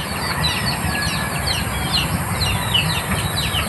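Chickens cluck and chirp at a small Filipino farm coop, many overlapping short calls scattered across a steady background hiss, moderately close, with no voices.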